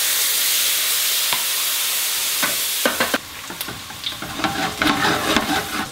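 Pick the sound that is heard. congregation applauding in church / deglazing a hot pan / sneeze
deglazing a hot pan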